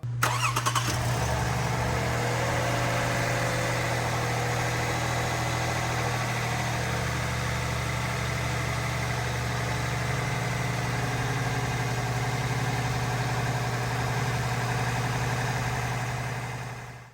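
A Toyota V6 car engine idles steadily and evenly, a low constant hum with mechanical clatter, running continuously at close range before fading out at the end.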